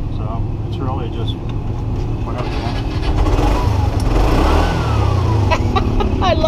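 Piaggio vehicle engine running in the Philippines, a mid-pitched motor that idles then swells into a louder rev partway through, with people talking over it.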